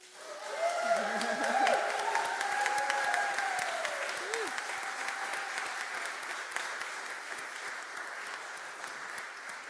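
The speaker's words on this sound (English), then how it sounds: "Let us welcome them with applause" Church congregation at a Sunday service applauding new members, sustained clapping that swells then slowly tapers, with voices talking over it early on.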